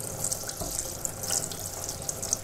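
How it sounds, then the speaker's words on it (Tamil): Water runs steadily from an open tap into a bottle to fill it, a continuous hiss and splash heard close up, with no talking. "இந்த மாதிரி டேப்பை திறந்து தண்ணி ஊற்றி ஃபுல்லாக நினச்சிருங்க."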